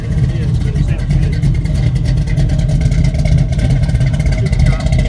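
Big block muscle car engine fitted with a split-duration hydraulic cam, idling and revving with a loud, rough, lumpy rumble that runs steadily and close throughout, while people talk over it.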